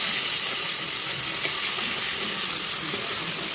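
Spice paste hits a hot pan and sizzles loudly and steadily, a close, continuous frying hiss during preparation of a vegetarian pointed-gourd dorma, with no talk.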